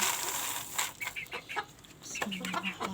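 Native hens and chicks are heard nearby at a feeding spot, with short clucks and peeps coming in quick irregular bursts. A voice is faintly heard underneath.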